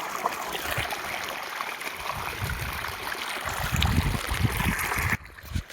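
Cold water from a motor pump rushes steadily in a close, continuous splashing flow, then drops in level shortly before the end.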